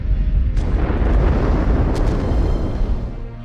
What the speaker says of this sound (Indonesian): Tepat di jam 6 lebih, bom terowongan itu pun berhasil meledak.